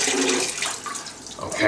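Brine water running off brined chickens into a kitchen sink, a fairly loud rushing, splashing flow that eases slightly midway and swells again at the end.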